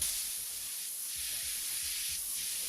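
An airbrush lays a wide mist of gray paint across a marble finish, producing a constant close hiss that keeps a level loudness through the short stretch, with no voices.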